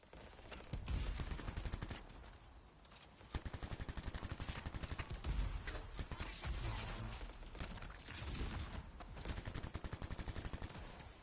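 Heavy automatic gunfire from a very large weapon in a video game battle, rapid rattling bursts that come in long sustained volleys with short pauses between them, loud and close.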